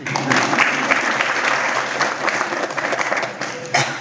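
An audience at a spiritual discourse on saintly company breaks into sustained, fairly loud applause, many hands clapping together for several seconds.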